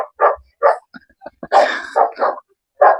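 A dog barks close by, loud and alone, in a quick string of sharp barks and yips with short gaps between them.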